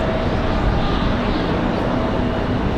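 A Boeing 737-800 airliner at Raleigh-Durham airport produces a steady, broad jet roar that fills the whole stretch at an even level, with no talk over it.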